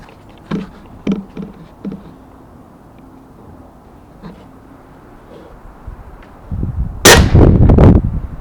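An Umarex Gauntlet air rifle fired at a squirrel outdoors: a few soft thuds and clicks early on, then quiet, ending with a louder burst of rustling and impact noise close by.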